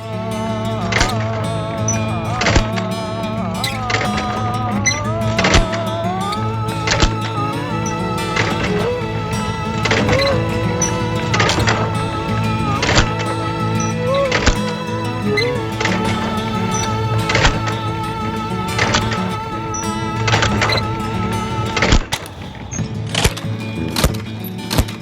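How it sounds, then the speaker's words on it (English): A pecan cracking machine rotates a turret to carry each nut to a cracking rod, producing a steady mechanical hum under a rapid, regular series of sharp clacks and snaps, loud and close throughout. "The turret then takes the pecan to the cracking rod to be cracked."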